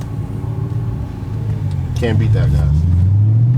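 An Audi B7 S4 with an upgraded exhaust rumbles at close range, its deep note swelling louder partway through as the revs climb, while someone speaks over it.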